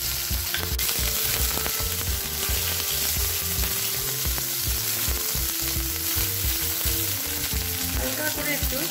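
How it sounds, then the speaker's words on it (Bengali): Capsicum frying in hot oil and being stirred, a loud, dense, continuous sizzle with steady scraping and clinking of the spoon against the pan throughout. "এইবারে আমি এই ক্যাপসিকামগুলো একটু আসবো না, একটু নেড়ে করে"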